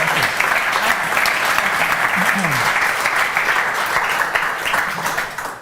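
Steady, loud applause from a conference audience fills the whole stretch, with a voice faintly speaking underneath.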